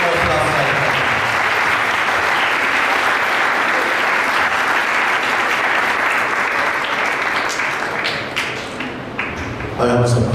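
Loud, sustained applause fills an Easter church gathering honoring a reverend father, a thick continuous clapping from a large congregation that thins slightly near the end as a few voices come through.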